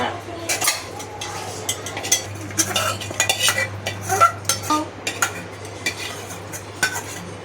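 A utensil stirs milk in a pot, making irregular metallic scrapes and clinks against the sides in quick bursts, with a steady low hum in the background.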